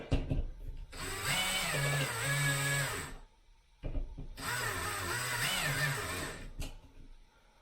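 A DeWalt power drill drives a screw while a Moen bidet toilet seat is fitted, whining in two sustained, loud bursts of about two seconds each, with the motor pitch rising and falling and a short pause between them.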